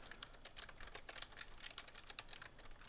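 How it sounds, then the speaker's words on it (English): Rapid, continuous typing on a computer keyboard while entering book details into a word processing document, heard as dense, soft, close clicks with no voices. "For example, I can now type information about the book."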